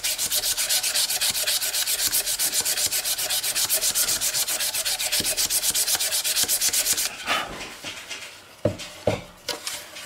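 Sandpaper rubs steadily on the neck of a custom quilted maple mandolin, a fast, even back-and-forth rasp close by for about seven seconds, then a few louder scrapes and knocks of wood being handled.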